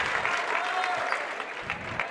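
A high school girls' basketball crowd at a sectional final claps warmly, a brief burst of applause with some cheering mixed in, busy and slightly uneven throughout.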